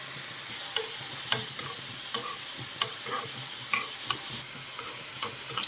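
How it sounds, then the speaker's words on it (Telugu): Mustard seeds and cumin seeds frying in a pan for onion pickle, sizzling steadily with repeated crackles and pops as they are stirred, close and alone. "ఇవన్నీ ఎర్రగా ఫ్రై చేసుకుందాం"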